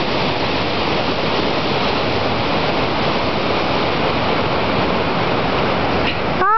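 Rushing river water at a rock-throwing spot, running muddy after rain, a dense, steady close-up roar with no breaks, drowning out most other sound.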